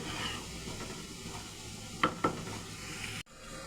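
Homemade tomato sauce stirred in a pan, a low bubbling sizzle with scraping strokes and two sharp utensil knocks near the end before an abrupt cut.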